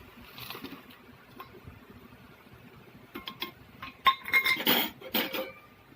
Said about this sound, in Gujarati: ગોળને હવે હલાવતા રહીશું આપણે.